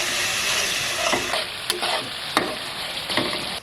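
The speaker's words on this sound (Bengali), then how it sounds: "সামান্য পরিমাণে একটু জল দিয়ে মশলাটাকে ভালো করে কষায় নিই" Masala with Kashmiri chilli and a little water stirred and frying in a pan for a vola fish curry: steady close sizzle broken by several sharp spoon scrapes, alone without voices.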